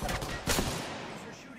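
Gunfire in the video game Apex Legends: a dense, noisy burst of rapid shots that stays loud throughout, with no clear gaps between rounds.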